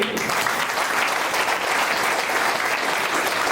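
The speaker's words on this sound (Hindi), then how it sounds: "हमारे डॉक्टर लीन के लिए ताली होनी चाहिए।" An audience at a marketing-plan training session in Jehanabad gives loud, continuous applause, forming a thick wash of clapping that holds steady for over three seconds.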